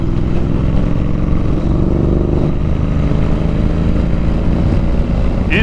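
A Royal Enfield Interceptor 650 motorcycle being ridden, its steady engine drone and road noise loud and continuous throughout with no pauses.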